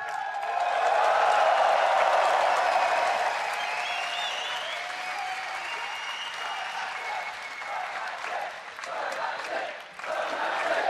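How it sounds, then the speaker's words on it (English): Esports crowd at the 2015 World Championship quarterfinals cheering and applauding after a victory, sustained dense clapping and cheers from a large arena audience, loudest at first and tapering slightly while continuing throughout. "The cheering will go on and on."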